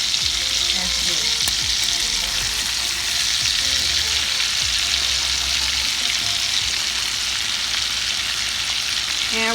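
Shrimp fry in sauce in a hot pan for a steak and shrimp dish, a dense continuous sizzle with occasional soft stirring knocks.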